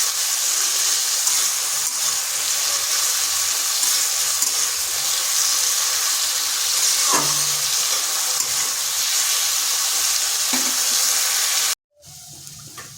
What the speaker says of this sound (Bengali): মিডিয়াম আছে রেখে আলুটাকে তিন থেকে চার মিনিট একটু এইভাবে ভেজে নিচ্ছি